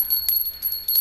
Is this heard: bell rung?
yes